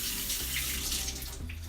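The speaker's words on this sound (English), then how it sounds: "Rinse my hands down real quick." Hands rinsed under a running kitchen tap, a close steady rush of water splashing into a sink for under two seconds, with no talk.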